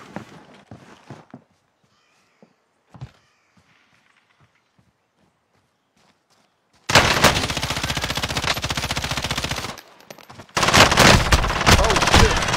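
Rapid automatic gunfire in the video game Call of Duty: Warzone erupts after quiet footsteps and scattered clicks, firing in two loud sustained bursts separated by a short gap.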